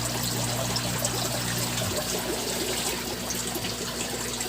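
Water trickles steadily into a lobster breeding tank, a continuous close wash of running liquid with a low pump hum underneath.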